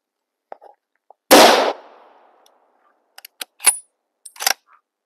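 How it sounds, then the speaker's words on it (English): Gunshots ring out at an outdoor shooting range: one loud, sharp report with a trailing echo, then several quicker, quieter cracks and pops spaced unevenly afterward, with no talking. "let's get some rounds down range and see if I can hit anything"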